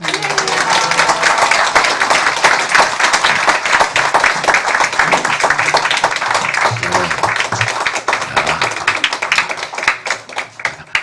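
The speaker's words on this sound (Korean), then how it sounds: "우리 나오실 때 할렐루야 박수로 맞이하겠습니다" A church congregation at a Sunday worship service claps steadily to welcome the preacher, a loud, dense wash of many hands lasting throughout and easing slightly near the end.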